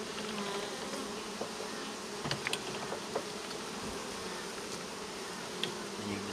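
Honeybees buzzing at an open hive, a dense steady hum close by with occasional faint clicks and knocks from handling.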